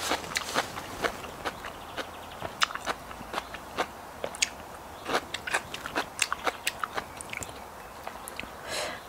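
Crunchy Thai papaya-style salad with salmon, shrimp and fermented fish sauce, plus home-grown alfalfa and radish, being chewed close up: repeated crisp bites and crunches in an uneven rhythm, with no talking.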